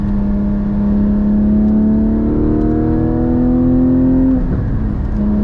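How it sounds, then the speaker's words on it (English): A Porsche GT4 with a manual transmission drives with its engine and exhaust droning loud and close, the pitch climbing steadily under acceleration, then dropping sharply at a gear change before settling again. "just having an engine behind you is an incredible experience. And the sound, my God."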